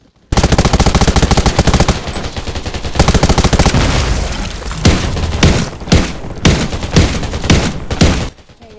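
Rapid, loud gunfire bursts in the survival shooter Undawn on Rad Island, with dense automatic fire and repeated sharp shots close by, no talk.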